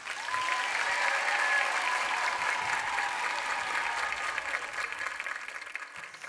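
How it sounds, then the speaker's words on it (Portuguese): Sustained studio audience applause on a Brazilian TV variety show, a steady dense wash of many hands clapping for several seconds, fairly even and slowly tapering. "nossos aplausos."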